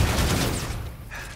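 A gun turret firing in the Infinite Warfare Zombies in Spaceland video game, giving a dense, loud stream of rapid shots that stays constant.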